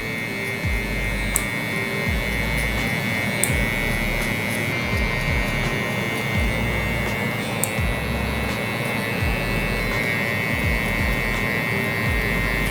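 Electric hair clippers with a 1 guard cut curly hair for a taper, a steady close buzz and hum running throughout with slight pitch wobble as the blade passes through the hair.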